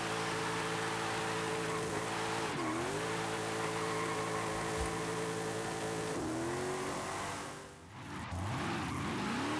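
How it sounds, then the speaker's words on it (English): Engine of a Mercedes-Benz X-Class X250D pickup truck tuned past 1300 horsepower in Forza Horizon 5, a loud steady drone with rising and falling revs through gear shifts, briefly dipping before climbing again. "Yeah, this engine sounds good, so I think I'll take this engine."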